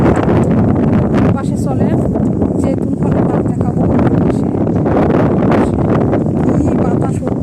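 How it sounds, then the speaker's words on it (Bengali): Strong night wind blows outdoors with dust in the air, a loud, steady rushing roar under a person talking throughout. "কি বাতাস হচ্ছে, রাতের বেলা অনেক ধুলার বৃষ্টি হচ্ছে।"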